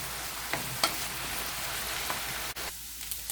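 Beef flank steak stir-frying in a pan for beef and broccoli, a continuous close sizzle broken by a few sharp scrapes and clinks of stirring, with no one talking.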